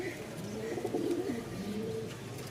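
A pigeon coos nearby toward a released female, a low, throaty rolling call repeated a couple of times against quiet background noise.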